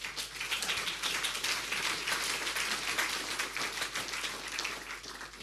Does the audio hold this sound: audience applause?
yes